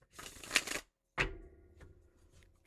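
Cards are riffled and shuffled up close in two quick bursts, separated by a short pause, then a softer rustle and a few light taps.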